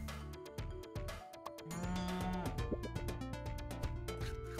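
A cartoonish cow moo from the Super Auto Pets video game, a short voiced call set against steady background game music and chimes.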